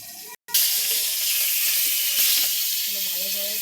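Pangas fish frying in a hot pan gives a loud, steady crackling sizzle that cuts out for an instant near the start, then carries on evenly with no voices.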